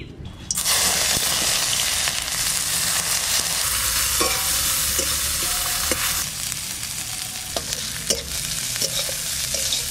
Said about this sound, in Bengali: ভাজার জন্য একটু তেল দিচ্ছি।